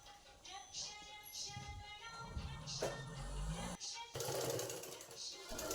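A sewing machine stitches fabric for a cloth hair band, a close, fast mechanical whirring run that rises and stops, then gives way to a brief rustle of handled cloth.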